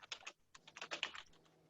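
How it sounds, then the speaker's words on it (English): Someone typing on a computer keyboard: quick, uneven bursts of soft clicking keystrokes, close and quiet, with a brief pause partway through and no voices. "So I'm going to start typing my new goal."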